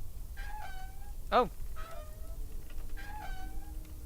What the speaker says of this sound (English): Do you want the old sandwich? Here, kitty,